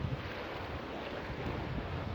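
Broad steady rush of the Mahanadi river running full and strong, a continuous wash of moving water with wind buffeting the microphone, no voices.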